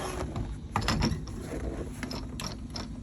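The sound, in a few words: screwing a propane refueling nozzle onto a bus tank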